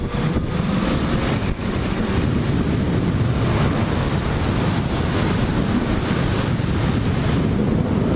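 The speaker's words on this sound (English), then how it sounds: "Another thing about being behind a vehicle like this is the wind." A constant roar of wind buffets the microphone on a vehicle trailing close behind another vehicle, a dense, unbroken rush that stays loud and steady throughout with no talking.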